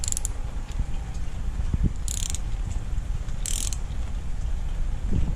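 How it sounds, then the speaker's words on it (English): Wrench being hand-tightened on a part during Yamaha F115 outboard motor maintenance, giving a few quick ratcheting clicks over steady low background noise. "And I attach the wrench. And I just hand tighten it in."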